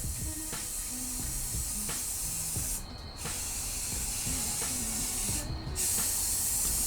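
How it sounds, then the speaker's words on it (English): Spray paint hisses steadily from an aerosol can onto a glitter lamp shade, close and loud, with brief breaks where the nozzle is released. "I'm going to bend down so I can start spray painting."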